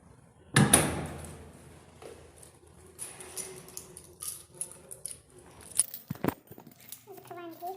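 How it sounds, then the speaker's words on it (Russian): An apartment door shuts with one sharp, loud thud, then someone talks while bag rustles and small handling knocks follow. "Закрываем дверь."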